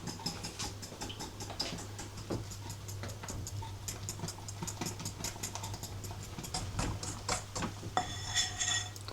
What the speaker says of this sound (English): you're going to whisk that all together